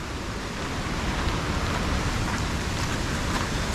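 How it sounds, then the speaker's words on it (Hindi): Heavy rain pours steadily at a jungle waterfall in Bhandardara, a dense, continuous hiss of falling water with no gaps, loud and close throughout. "पिछले एक घंटे से इतनी ज़बरदस्त बारिश हो रही है"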